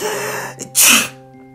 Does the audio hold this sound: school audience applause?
no